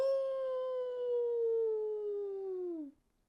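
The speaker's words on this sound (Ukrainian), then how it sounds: "Вдалині лунало вовче виття." A single long, smooth wolf howl holds a steady pitch for nearly three seconds, then drops off and fades, clear and isolated.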